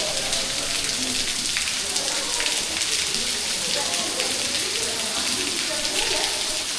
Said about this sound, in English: I can hear a waterfall